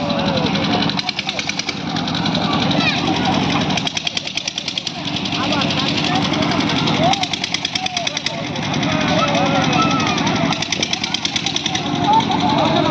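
A children's ride train at the Diabari amusement park in Uttara runs with a steady rhythmic mechanical chugging and rattling engine pulse, close and fairly loud, with people talking over it throughout.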